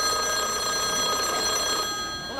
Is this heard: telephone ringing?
yes